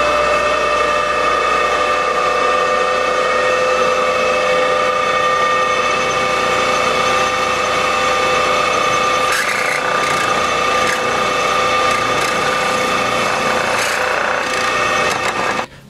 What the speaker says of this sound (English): I'm going to show you the process of running this lathe and drilling a hole in it.